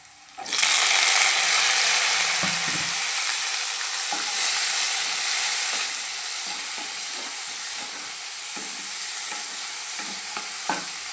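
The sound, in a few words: tomatoes added to a frying pan, sizzling and stirring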